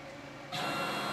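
A 6090 CNC router's axis motors driving the gantry slowly toward its zero position, a steady whirring hum that steps up louder and brighter partway through and holds.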